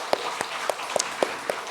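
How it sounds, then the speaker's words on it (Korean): A church congregation claps in time, sharp regular beats about every quarter second ringing through the sanctuary at moderate volume, with no talk over them. "이 자녀들 축복하는 마음으로 우리 박수 한번 쳤으면 좋겠습니다."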